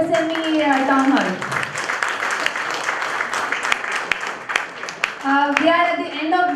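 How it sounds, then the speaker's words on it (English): An audience at a business conference applauds in a dense wash of clapping that swells and fades, with a voice speaking before and after it. "Please give a round of applause for this MSME town hall."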